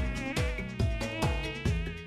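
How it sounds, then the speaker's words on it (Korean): A mosquito whines close by in a high, thin, continuous buzz that swells and fades in quick repeated passes, heard alone. "아, 모기!"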